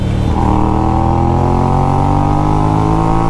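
A Hyosung Aquila 250 twin-cylinder motorcycle with dual exhaust pipes merging into one revs loudly and steadily up close, its engine note rising slightly and holding for the full few seconds with no talk.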